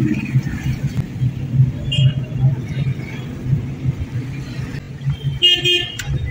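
Small-market street traffic in India rumbles steadily, with engines idling and passing and a few short car horn toots rising near the end.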